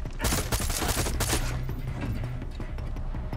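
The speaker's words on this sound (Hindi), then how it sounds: "कहीं से फायरिंग हो रही है" Video game gunfire in Far Cry 6, with rapid bursts of shots and automatic fire going on throughout at moderate loudness, with no talking.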